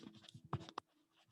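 Pen on paper writes a question by hand, a few brief faint scratching strokes with two sharper taps, close and quiet with no talk.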